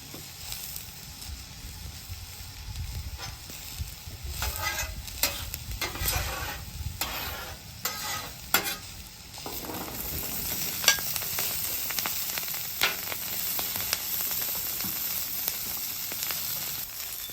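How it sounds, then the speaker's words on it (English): Brussels sprouts sizzling and frying in beef tallow on a hot Blackstone griddle, a steady crackling hiss with occasional stirring and scraping, close and fairly quiet, no talk. "We're going to start frying our Brussels sprouts."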